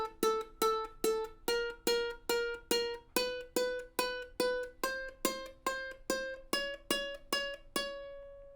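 A string of plucked ukulele notes, about eighteen in steady rhythm, the pitch stepping up every few notes, each ringing briefly; the last one rings out longer.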